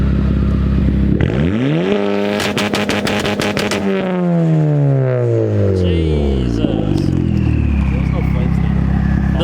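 A boosted Acura RSX Type S engine revs hard at full throttle on a dyno, climbing sharply in pitch, then winding down in a long falling sweep with clattering and crackles, loud and close, with people talking over it.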